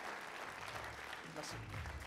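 A crowd applauds at a French municipal campaign meeting, a brief wash of steady clapping heard faintly from a distance with a low voice underneath.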